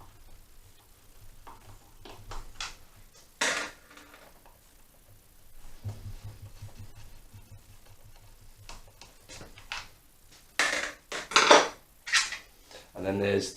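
Screws are worked loose from the lower half of the airbox on a Honda CBR400 track bike, with scattered metallic clinks, taps and rattles of tools and fasteners between quieter stretches, and a few sharper clatters near the end.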